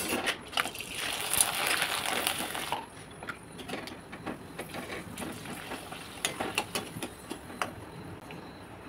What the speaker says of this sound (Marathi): आता चला सगळं पापड ते तळते